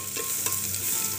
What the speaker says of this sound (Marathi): लसूण ही गुलाबी कलरवर होईल असं आपल्याला छान परतून घ्यायचं आहे